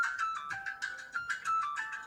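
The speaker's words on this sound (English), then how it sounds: "Somebody's phone's ringing." A mobile phone ringtone plays indoors: a bright electronic melody of repeated short chirping notes in a quick, bouncing rhythm, fairly loud and with no talk over it.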